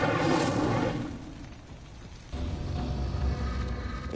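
In Hogwarts Legacy, the Incendio fire spell is cast as two fiery whooshing bursts: a loud one at the start, then a second roaring flare midway that is sustained until the end.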